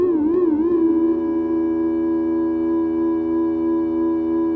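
An Elektron Syntakt plays a mono sine tone whose pitch wobbles briefly at the start before settling into a steady sustained note rich in bright overtones from audio-rate modulation, alone and clear.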